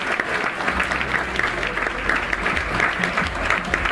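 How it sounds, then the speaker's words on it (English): Audience applause at the Mr. Hawaii 2014 pageant on Maui, steady clapping from a crowd that runs without a break for about four seconds. "let's give Paul Billington a round of applause for blessing us with this scholarship."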